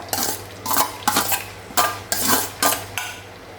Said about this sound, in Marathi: आता आपलं तेल तापलेलं आहे तर आता आपण आपली मिरची आणि आलं घालूया यात